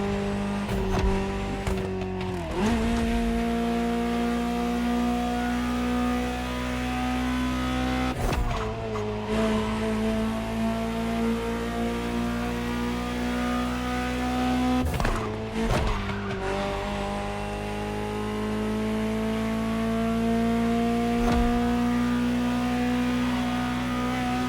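Ferrari supercar engine in The Crew Motorfest racing game, a loud sustained engine note rising through the revs with abrupt gear-shift drops and brief tire squeal, no talking.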